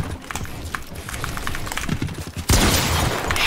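Gunfire in the Fortnite video game, a flurry of rapid shots mixed with in-game clatter and footsteps, ending in a loud burst of noise.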